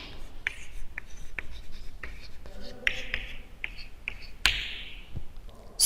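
Pen scratching across paper as a remark is written down, a run of short distinct strokes and taps at close range, with a voice talking quietly alongside.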